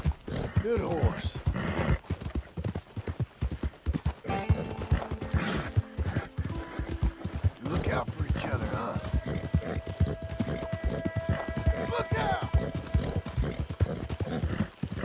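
A horse in Red Dead Redemption 2, the black mare Belle, clip-clops steadily across fifteen seconds with a whinny breaking through, close and busy, while someone speaks intermittently and music-like tones drift underneath.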